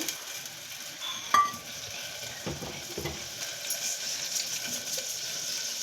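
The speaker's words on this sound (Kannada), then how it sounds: "ಸಾಸಿವೆ ಹಾಕ್ತಾಯಿದ್ದೀನಿ" Hot oil with mustard seeds for a dal sambar tempering gives a steady, close crackling sizzle, with a sharp pop or clink early on and a few soft knocks of a utensil through the frying.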